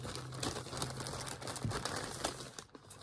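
Plastic packaging from an online shopping haul crinkles and rustles close up as hands rummage through it in quick, irregular bursts, with a faint steady hum underneath and no speech.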